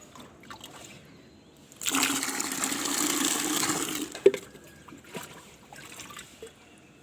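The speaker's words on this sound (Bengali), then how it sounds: "আরও পরিষ্কার জল দিয়ে এটা ভর্তি করে" Clean water poured in to fill a container up to 25 litres, a steady gushing flow lasting about two seconds before stopping with a clunk, followed by faint trickles and quiet background.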